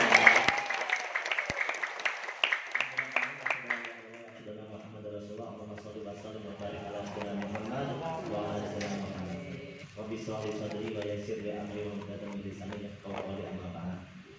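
A crowd at a talk event in Bandung applauds in a short, sharp burst of clapping. After a few seconds it gives way to sustained music with tonal voices.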